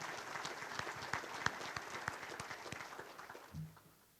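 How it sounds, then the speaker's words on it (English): Scattered applause at a university scholarship and ring banquet, quiet and somewhat distant, with individual claps picked out in a sparse, uneven rhythm that thins toward the end. "So please give yourselves a round of applause."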